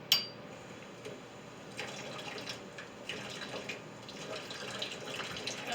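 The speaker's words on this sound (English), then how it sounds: "Added like 3 tablespoons of water." Water being poured into a rice flour mixture in small additions, a faint trickle and splash with light clinks, close and quiet, with no talk over it.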